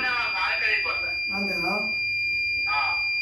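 An Exide inverter sounds a steady high-pitched buzzer alarm caused by a wrong battery connection. The tone holds continuously throughout while someone talks over it.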